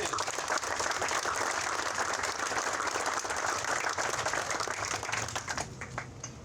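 Crowd applause at an outdoor ceremony marking Lemont's 150th anniversary of incorporation: steady, dense clapping from many people throughout, fading toward the end.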